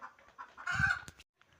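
Local chickens clucking, a few short, faint calls with one brief louder squawk near the end, close by and quiet.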